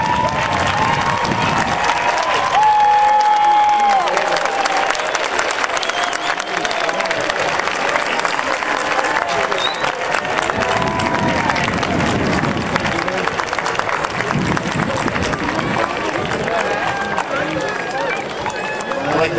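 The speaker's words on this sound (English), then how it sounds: "let's applaud them for what they have done" Graduates at a college graduation ceremony applaud their families, a long, loud wash of clapping mixed with cheering and crowd chatter in a large venue.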